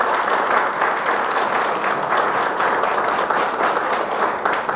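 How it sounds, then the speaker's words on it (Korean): Sustained applause from the audience at a Korean intellectual-property policy forum in the National Assembly, dense and steady clapping throughout at even loudness with no talk over it. "다시 한번 박수 부탁드립니다"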